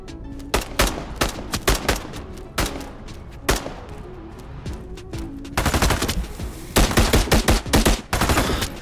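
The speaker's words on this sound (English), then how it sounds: "The enemies you face will also have powerful sounding weapons," Enemy weapons fire in the VR shooter Into the Radius 2, loud bursts of automatic gunfire and single shots crackling in rapid clusters, growing denser and more sustained toward the end, with no talking.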